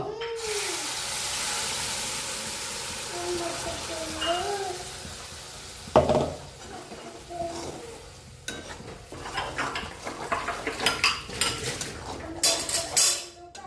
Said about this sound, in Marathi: आता यामध्ये आपण खोबरं आलं लसूण कढीपत्ता हे दळून घेतलं तर ते टाकून घेऊयात